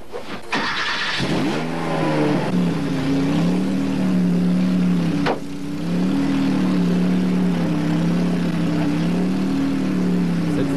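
Flat-six engine of a Lada Samara prototype at the Paul Ricard race circuit, a loud, close, droning run with revving rises and a brief dip in pitch partway through, no talking.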